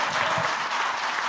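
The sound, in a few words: church congregation applauding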